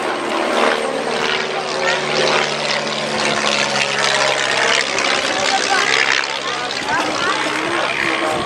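A Eurocopter EC135 helicopter's engine and rotor drone steadily and loudly throughout, with someone talking over the noise.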